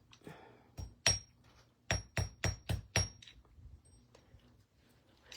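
Beading wire hammered on a big bench block for a beaded plant stake, sharp metallic strikes close by, a single hit followed by a quick run of about five evenly spaced blows, then faint handling clicks.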